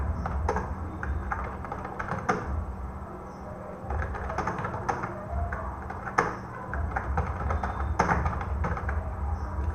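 Typing on a computer keyboard in a word processor, steady close key clatter in uneven bursts with a few louder taps, no talking.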